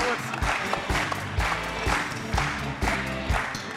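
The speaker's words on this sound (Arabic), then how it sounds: "تصفيق عليه" A studio audience on a television quiz show claps in a steady rhythm after a contestant's winning answers, with beat-like thumps and a crowd murmur.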